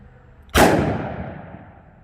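A single loud, close gunshot from a Smith & Wesson Model 69 .44 Magnum Combat Magnum revolver with a 2.75-inch barrel, fired one-handed at a range, with a sharp crack that rings out in a long decaying echo.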